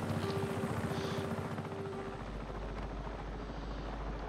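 A helicopter in the video game Just Cause 3 thrums steadily with rotor chop and a deep engine drone, rising into a heavier low rumble partway through.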